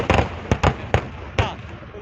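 Sharp fireworks bangs crack out in a rapid irregular series of four or five at a Kerala Pooram temple festival, loud and close, each with a short rumbling tail.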